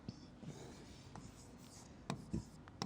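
Someone writes on a board during a geometry lesson on triangles, producing soft, continuous scratchy strokes broken by a few sharper taps, faint and close.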